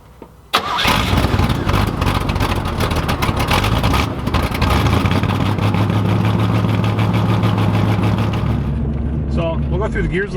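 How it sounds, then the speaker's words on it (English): A 1982-1992 Camaro Iroc-Z engine fires up and runs loudly while driving, heard from the driver's seat with a short-throw shifter, its strong steady roar climbing through the gears before easing off near the end. "We'll go through the gears a little bit and give you guys a view of kind of what's happening from the driver's seat here."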